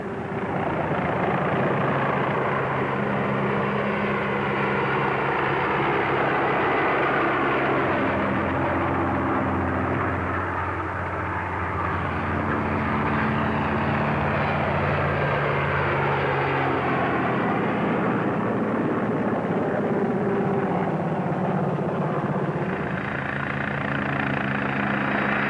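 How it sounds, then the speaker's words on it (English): A team of helicopters flies an agility display at the Farnborough air show, giving a continuous loud rotor and engine roar that swells and eases as the machines manoeuvre. "And now the helicopter team demonstrate their agility."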